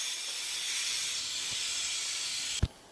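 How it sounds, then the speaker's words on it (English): Steam hisses continuously from an Instant Pot pressure release valve covered by a washcloth, a loud, close, broadband rush that cuts off abruptly with a soft thump near the end. "So we let the steam out."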